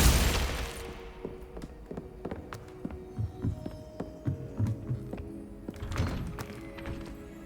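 Confringo and Glacius spells are cast in Hogwarts Legacy: a broad whooshing blast opens, soft thuds and clicks follow over a low hum, then a second swelling blast comes near the end.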